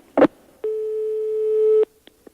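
A telephone busy signal after a call is hung up: a near, steady tone holds for over a second, bracketed by clicks, with a few faint short blips trailing after it and no talking.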